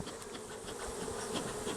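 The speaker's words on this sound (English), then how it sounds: "Let's try to run the bees off." Honey bees buzz in a steady, dense drone around a brood frame being cleared from a hive, close and continuous with no voices.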